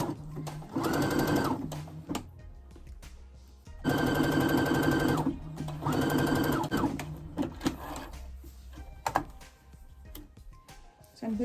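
An electric sewing machine runs in three bursts, each a whirring buzz lasting about two seconds, as it stitches the shoulder seam of a wrap dress. Between the bursts come quieter handling clicks and rustles.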